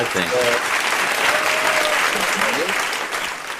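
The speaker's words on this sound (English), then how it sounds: "that's applause for you, guys" Audience applause at a gala audition finals session, a loud, dense burst of clapping that holds steady for a few seconds, with voices and cheers mixed in.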